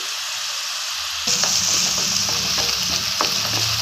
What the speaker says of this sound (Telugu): ఉల్లిపాయ ఎర్రగా వేగాలి. సాల్ట్ వేస్తున్నాను.